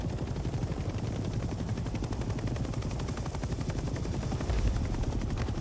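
Helicopter rotor thumping steadily and loudly in the Vietnam-era war game Hell Let Loose: Vietnam, with rapid machine-gun fire rattling underneath throughout.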